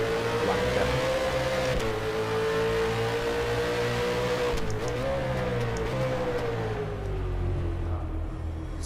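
A V8 Supercar engine in the rFactor 2 racing game holds a loud, sustained high-revving drone, pitch rising and dipping slightly with gear changes, continuous throughout with no talk.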